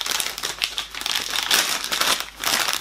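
A bag of protein chips is crinkled and crumpled up close, a continuous papery rustle with uneven bursts and no voices over it.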